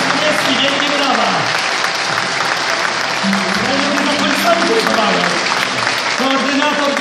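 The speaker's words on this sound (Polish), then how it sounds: "Saniewski, wielkie brawa." A crowd at a Wiosna party convention in Białystok claps steadily, dense sustained applause filling the hall for the whole stretch while a voice speaks over it through a PA.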